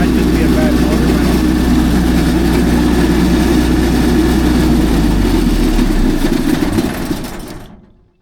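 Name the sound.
MEP803A military generator running noisily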